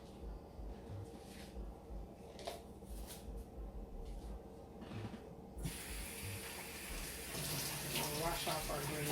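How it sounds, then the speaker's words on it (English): Tap water runs over a green pepper being rinsed in a kitchen sink, a splashing stream that grows louder and brighter partway through, with light clatter in the background. "Wash off our green pepper."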